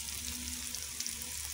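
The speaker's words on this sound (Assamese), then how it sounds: "মূলা সেই কেৰাহীত এনেদৰে পিঁয়াজ নহৰু দি পেলাই ভাজিছোঁ" Onion and garlic fry with radish in a kadai in an Assamese home kitchen, making a faint, steady sizzle close by with a couple of small pops.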